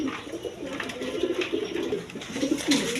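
Pigeons coo steadily in a low, throaty rolling rhythm, several birds close together, with faint background bustle; they are high-flying Giribaz pigeons kept for sale.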